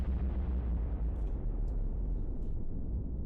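An explosion with a fire effect and a car model in an Unreal Engine 5 render produces a loud, sustained low rumbling roar that fills the whole stretch without letting up.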